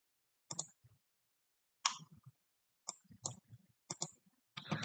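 Mouse clicks from a computer session, landing as a few sharp, close clicks in separated bursts with a quicker cluster at the end, quiet and without talk.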